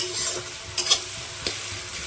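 Onions fry in a pan as the base for a yogurt chicken kosha curry, giving a steady soft sizzle with a few sharp spatula scrapes and stirs.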